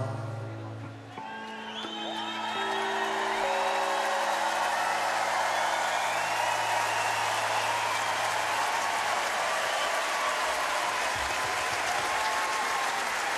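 A large arena audience at a concert applauds, a dense, loud, sustained roar of clapping that swells after a brief lull and keeps going steadily, with a few whoops and faint musical tones underneath at the start.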